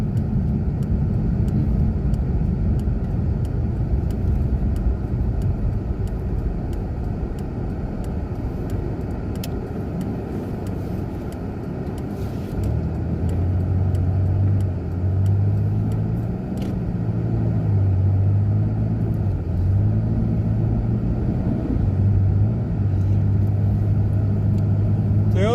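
A car drives steadily and slows to make a turn, its engine a continuous low rumble with a deeper droning tone settling in partway through; no voices are heard.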